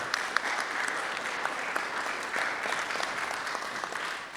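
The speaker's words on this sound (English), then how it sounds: "we can go ahead and applaud" A room of attendees at a joint city council and port commission meeting breaks into sustained applause, steady and moderately distant, with no voices on top.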